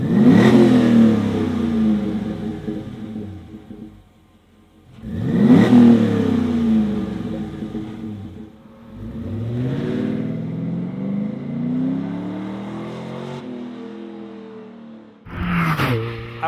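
A car engine revs up several times through a Flowmaster Super 50 Series muffler, each rev rising in pitch then falling back to a deep rumble, loud and close.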